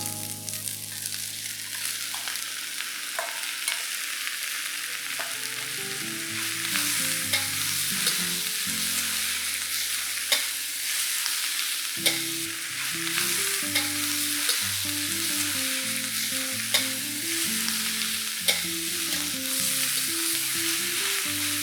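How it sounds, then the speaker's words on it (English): Pork belly frying and being stirred in a pan, with a constant close sizzle and repeated scraping and clinking of the utensil against the pan, steady and loud from start to finish. "Keep frying the pork till they turn slightly brown."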